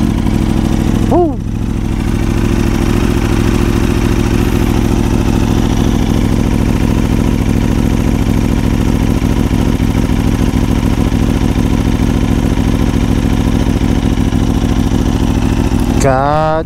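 A motorcycle fitted with an Akrapovic exhaust cold-starts with a quick rising crank, then settles into a loud, steady, close idle with a rapid even throb before a brief rev at the end.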